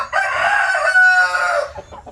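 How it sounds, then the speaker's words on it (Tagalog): Basilan native rooster crowing loudly and close by, a single sustained cock-a-doodle-doo lasting most of the moment and then cutting off. "Yan yung RTL RTV na mga basila native chicken."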